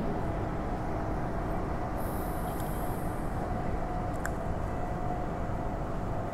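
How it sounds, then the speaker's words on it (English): Steady rumbling train noise with rail hum throughout, a faint high whine and brief squeal mid-way, no voices. "Departure sound."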